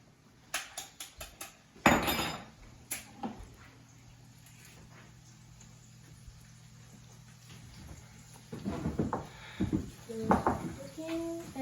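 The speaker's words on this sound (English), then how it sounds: "I'm going to crack the eggs." Eggs cracked against a bowl rim in a kitchen while noodles cook, a few sharp clicks and taps near the start, then quieter handling with some soft speech-like sounds toward the end.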